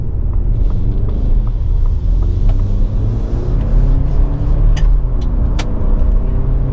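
A 2024 Ford Ranger Lariat 4x4 with the 2.3-liter EcoBoost drives along a road, its engine rumbling low and steady as it pulls and climbs in revs. Heard from inside the cab, with a few faint clicks and no talking.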